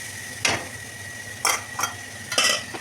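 A metal spoon scrapes and clanks in a pan three or four times over a low sizzle as ginger, garlic, cumin, coriander and chili powder are sautéed for a Bengali katla fish curry with potatoes.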